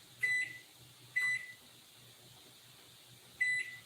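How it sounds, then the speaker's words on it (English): Kitchen timer sounding three short electronic beeps, spaced irregularly, clear and close in a quiet home kitchen with a faint low hum underneath. "So let me set my kitchen timer."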